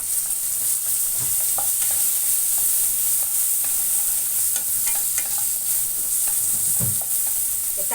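Curry leaves and coriander fry in hot oil in a home kitchen, a continuous close sizzle with occasional stirring scrapes of the spoon, no voices over it.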